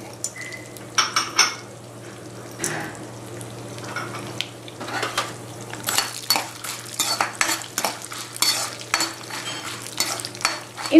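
Red chillies, peanuts, mustard seeds and chana dal roasting in hot oil in a pan, with a spoon stirring and scraping in irregular bursts over a soft background sizzle, close and fairly loud, with no talking.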